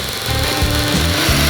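A hand saw cuts through material during a toilet replacement, a loud, continuous rasping with rhythmic back-and-forth strokes roughly every third of a second, close by and without talk.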